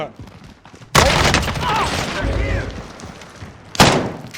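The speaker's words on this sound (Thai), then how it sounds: "ฮ้ย ใครยิงอ่ะ" Loud gunfire bursts in Call of Duty: Warzone, a sharp volley around the one-second mark lasting a couple of seconds, then another hard burst near the end, with players talking in between.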